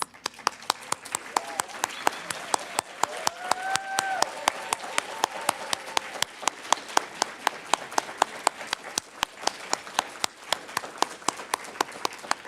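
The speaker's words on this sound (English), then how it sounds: "stand up so we can give you another round of applause" Steady, evenly spaced clapping rings out in a regular rhythm for several seconds over a quiet murmur during a Sunday church service.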